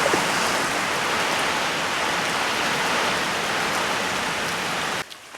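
Steady rain pours down in an even, dense hiss with no talk, then cuts off abruptly near the end, leaving near silence.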